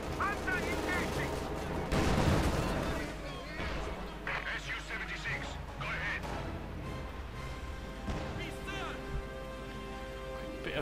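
Gunfire in Company of Heroes 2, a 1v1 World War II strategy match with Panzer IV tanks and artillery, bursts of machine-gun and rifle shots and heavier blasts cracking through a continuous battle din while a commentator talks over it.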